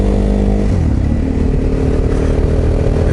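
A KTM 950 SM motorcycle on a test ride, its engine droning loud and steady close by with a rising rev partway through and a low rumbling throughout, no talk.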